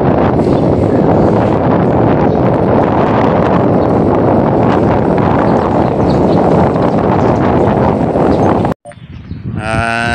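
Loud, steady wind buffeting the microphone on a ride along a road in Jala-Jala, Laguna, a dense roar that cuts out abruptly near the end before resuming more faintly.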